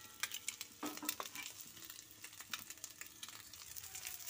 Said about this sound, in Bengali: ডিমগুলো আমার দুদিকেই ভাজা হয়ে গেছে